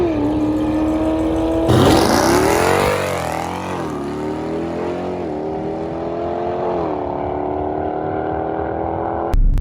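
A Jeep Grand Cherokee Trackhawk, a build topping 900 horsepower, drives along with a steady engine drone that surges loudly as it accelerates hard, then settles into a continuous cruising hum.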